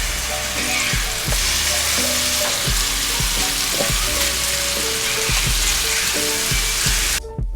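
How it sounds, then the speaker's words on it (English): Burger patties frying in a pan, a loud, constant sizzle with repeated low knocks and scraping from handling the pan, near and unbroken until it cuts off abruptly at the end, no talking. "So now we just formed the patties and we're just cooking up the burger."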